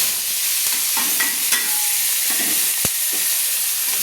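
Prawns sizzle hard in hot oil in a kadai. The frying is loud and close and holds a continuous hiss, with a few sharper spatters and one crisp tap near the end, and no voice over it.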